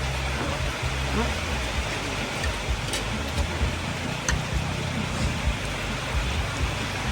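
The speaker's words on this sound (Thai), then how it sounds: "ตอนนี้ก็ฝนตกเลยท่านผู้ชม" Steady rain pours outdoors near the Kut Duea beach on the Don River in Ubon Ratchathani, Thailand, a broad continuous hiss with scattered drop patter and low rumble throughout.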